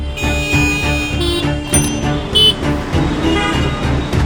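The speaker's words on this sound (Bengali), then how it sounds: "রাস্তার পাশে উচ্চ স্বরে কথা বলা জোরে জোরে হর্ন বাজানো" Car horns toot repeatedly over the steady rumble of road traffic, loud and close, several overlapping honks.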